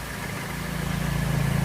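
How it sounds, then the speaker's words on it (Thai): A three-horsepower electric motor drives a one-inch three-cylinder sprayer pump, humming low and steady with a faint rhythmic pulsing that grows slightly stronger, no voices. "ตัวนี้เป็นมอเตอร์สามแรงนะครับ ฟังเสียงดูครับ เสียงเงียบด้วยครับ"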